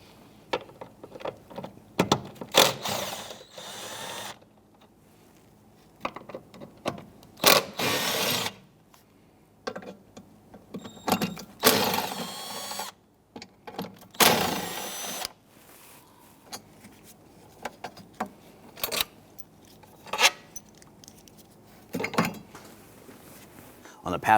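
On a Jeep Grand Cherokee 3.6L V6, a power tool whirs in repeated short bursts, backing out 10mm bolts from the cowl bracket, with clicks and metallic handling noises between runs, up close.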